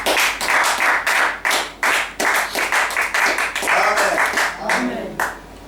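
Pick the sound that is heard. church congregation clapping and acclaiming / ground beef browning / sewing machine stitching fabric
church congregation clapping and acclaiming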